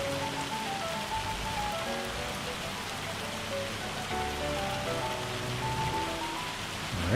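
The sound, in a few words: hail falling in a farming video game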